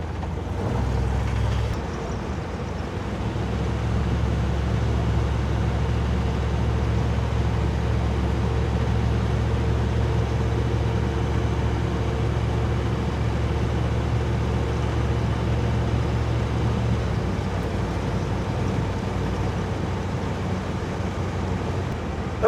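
Car fitted with a carburetor drives steadily on a road test, a low, even engine hum and road drone from inside the cabin, moderately loud and unchanging after a brief shift near the start.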